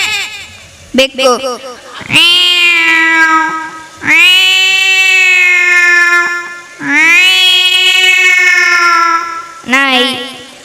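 On stage at a school anniversary celebration, a performer mimics a cat with long, loud, whining meows, about four stretched calls in a row, some starting with short yowls, right up at the microphone.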